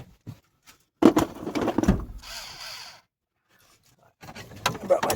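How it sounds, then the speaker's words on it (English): A screw gun fitted with a 7 mm socket whirs once for about a second inside the cab of a 1991 GMT400 truck, amid handling clatter and brief muffled voices. "I brought my screw gun today."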